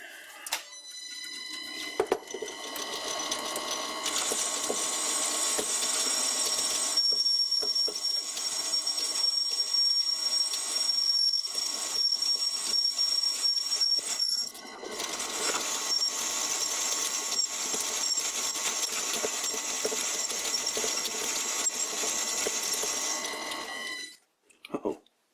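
Metal being cut on an old wood lathe with some backlash in the top slide, giving a steady whining, chattering machining drone with high ringing tones that runs almost continuously, dips briefly in the middle, then stops near the end.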